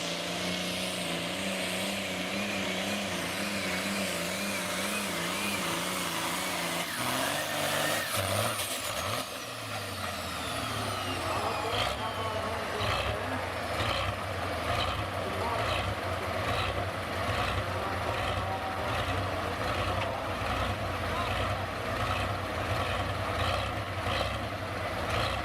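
A diesel garden tractor at a pulling event rumbles and then climbs to a loud, sustained drone with a steady pulsing beat. An announcer's voice and crowd noise carry over the engine throughout.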